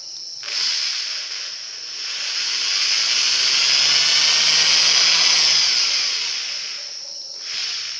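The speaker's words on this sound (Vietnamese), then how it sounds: "Bây giờ tôi sẽ khoan một lỗ từ trên xuống dưới" A drill bores a hole downward through a small piece of work during a handmade glass jar craft, giving one sustained, loud whirring hiss that builds and holds for several seconds before easing off, with no talking.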